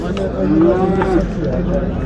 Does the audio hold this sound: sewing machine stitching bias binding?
no